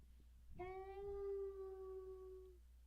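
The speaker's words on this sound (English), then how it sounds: "Ma dog. That's Biscuit." A dog howls in the Arcanum video game, one long, clear, steady howl of about two seconds rising out of quiet and fading at the end, heard alone.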